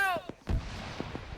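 A frag grenade goes off in the military shooter game Arma 3, one loud low boom after a voice, with distant gunfire pops trailing behind it.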